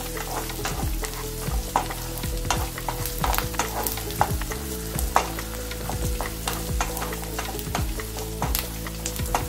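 Onions and crushed garlic sautéing in a pan for chayote poriyal, a continuous close sizzle with rapid, repeated spatula scrapes and stirs throughout, no speech.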